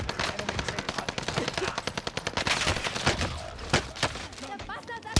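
Enemy gunfire in Warzone: sustained rapid automatic bursts, close and loud, with quick repeated cracks throughout and a few heavier single shots near the end, layered over constant battle noise.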